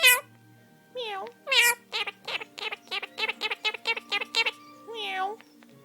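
Nearby, a quaker parrot imitates a cat's meow, giving several drawn-out, wavering meow-like wails with a quick run of sharp chirps between them.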